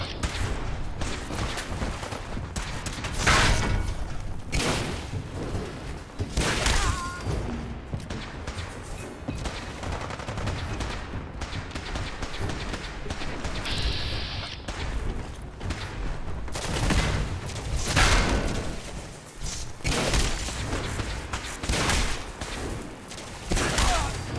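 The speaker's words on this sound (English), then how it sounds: "What is shooting me?" Rapid bursts of gunfire in Fallout 4 rattle and crack in loud volleys across most of the stretch, with short lulls between barrages and a few crashing impacts.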